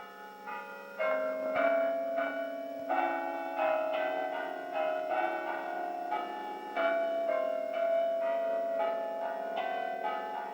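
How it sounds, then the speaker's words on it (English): The Shandon church bells in Cork, Ireland ring out in a steady melodic peal, successive bell strikes sounding clearly one after another with lingering resonant tones, heard from nearby with no talking. "always in the background we could hear the music of the Shandon bells"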